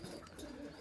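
Racing pigeons at a loft give a short, soft coo, faint and low against a steady background hum.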